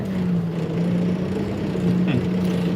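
A tractor engine idles in a farm field with a steady low hum throughout, fairly loud and close, its pitch dipping briefly near the end.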